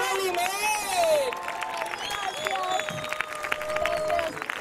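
A theatre audience breaks into applause and cheers after a performance, with clapping and whoops mixing with raised voices and melodic vocal sounds for several seconds.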